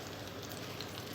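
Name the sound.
garlic tempering sizzling in hot oil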